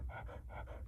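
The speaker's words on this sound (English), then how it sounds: "Your panting is getting on my nerves." A dog pants close by in a quick, steady rhythm of four breathy in-and-out puffs, alone and fairly soft.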